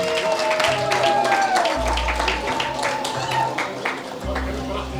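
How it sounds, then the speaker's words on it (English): Conference audience gives a round of applause, a dense continuous clatter of many hands clapping throughout, with a voice talking over it and some low rumble beneath. "Please give a round of applause to all of yourselves."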